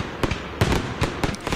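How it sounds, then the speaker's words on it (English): Several fireworks explode on a Fourth of July night, sharp loud bangs arriving in an irregular series, some close together and others spaced apart, with crackling tails between them. "The loud firework explosions can be scary for many animals, causing them to run away."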